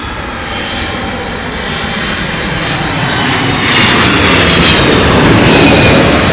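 An aircraft at London Heathrow Airport roars nearby with a dense, loud engine rumble that swells stronger partway through and stays heavy to the end.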